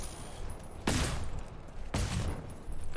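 Two sharp gunshots ring out about a second apart in the video game GTFO, fired at a hybrid enemy, each a loud, close burst with a short tail over low background ambience.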